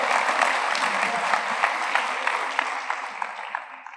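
Steady applause from a cathedral congregation at a Sunday school service, many hands clapping together in a thick, even roar, with a few sharper claps standing out as it slowly fades toward the end.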